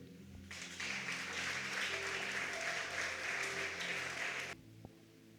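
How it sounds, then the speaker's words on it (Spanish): A church congregation at a Yom Kippur fast service claps together for about four seconds, a dense steady applause at moderate distance that starts abruptly and cuts off sharply, leaving quiet room tone. "Aplauda al Rey."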